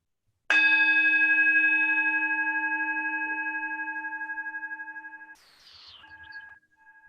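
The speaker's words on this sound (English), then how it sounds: "I begin and end with our bell." A meditation bell is struck once and rings with a clear, sustained tone that slowly fades, then gets muffled near the end.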